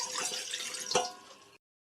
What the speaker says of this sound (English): you need to pour water into the pot and check for leaks